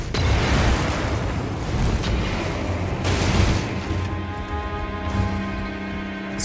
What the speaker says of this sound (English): Just avoided the fiery explosion.